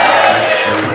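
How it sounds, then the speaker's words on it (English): An audience at a live comedy stage show bursts into loud, dense cheering and applause, a steady wall of crowd noise filling the whole moment. "Ladies and gentlemen, a round of applause for the woman who's not going to dance again!"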